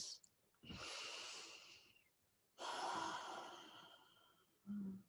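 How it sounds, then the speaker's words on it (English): Deep breathing during a yoga session: a long slow inhale, a pause, then a long audible exhale, close and soft, with a brief sniff at the end. "Taking nice big breaths."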